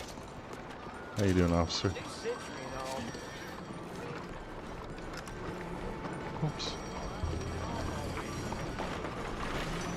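Horse hooves clip-clopping in the Red Dead Redemption 2 video game, a quick close burst of hoofbeats early on, then a steady ambient bed with someone talking over it.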